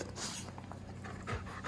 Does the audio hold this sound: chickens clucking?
no